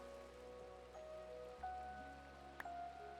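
Steady video game rain patters on a surface, a constant wash of drops with faint tones and a brief click, and no voices over it.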